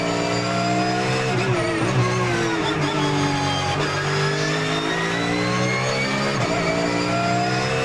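A race car's engine at the Nürburgring revs hard and continuously up close, its pitch climbing and dropping through gear changes and cornering, with a faint tire squeal, and no one talking.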